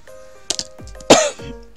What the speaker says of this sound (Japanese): すいません、咳して。